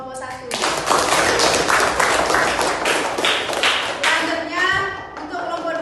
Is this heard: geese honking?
no